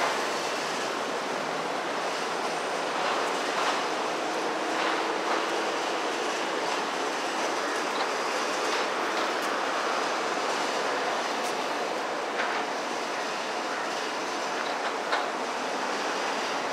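A train rolls through a busy urban rail and transport hub, a steady broadband rumble with faint rhythmic rail clatter holding at fairly close range for the whole stretch, mixed with general ambient noise and no clear talk.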